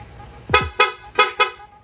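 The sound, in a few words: motorcycle rapid horn honking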